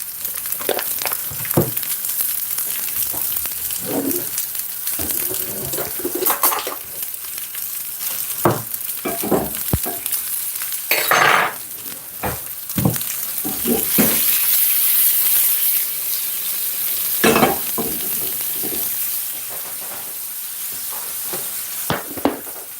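Sausage frying in butter in a pan, a steady loud sizzle with crackles and spits, occasional stirring scrapes and a brief burst of water or steam.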